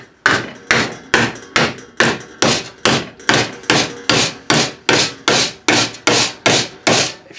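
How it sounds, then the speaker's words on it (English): A rawhide hammer strikes a sheet metal bracket clamped in a vise, about fifteen sharp, evenly paced blows in a row, close and loud, each a dull crack with a short ringing decay. "got my rawhide hammer"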